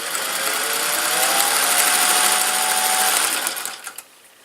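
A sewing machine set for tight stitches of about 30 per inch runs steadily at a constant whirring pace, near and loud, then slows and stops with a few small clicks near the end.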